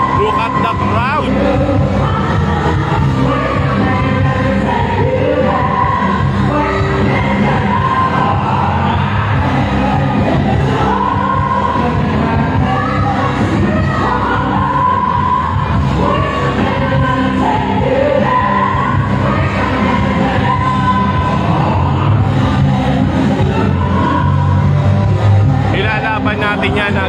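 A huge crowd packs a political proclamation rally in Manila, with a constant roar of hubbub and cheering swelling throughout while someone talks over it up close.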